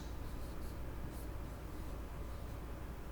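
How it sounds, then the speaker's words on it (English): Steady scratchy friction of marker writing on a board, continuous and close, with no talking. "So let me write that on the board."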